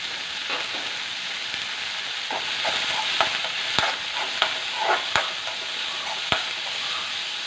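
Onions with a pinch of salt fry and sizzle steadily in a pan, with sharp scraping clicks of a spoon stirring them at intervals, close and moderately loud.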